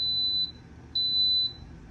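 A pressure cooker beeps as its yogurt program starts, two clean high electronic tones about half a second each with a short gap between, loud and close in a quiet kitchen.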